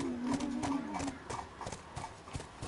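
Horse hooves clip-clopping in a steady walking rhythm in The Last of Us video game, with someone talking over the first second.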